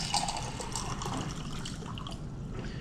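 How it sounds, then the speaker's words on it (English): Cold water is poured into a container with salt in it, giving a soft, steady splashing and trickling that runs for a few seconds, close by and fairly quiet, with no talking. "And then I'm going to add some cold water to this."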